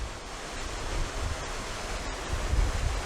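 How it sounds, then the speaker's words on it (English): A waterfall beside a resort pool in Grand Bahama gives a steady, broad rush of falling water, continuous and fairly close with slight surges, and no voices over it. "Nice waterfall set up here by the pool."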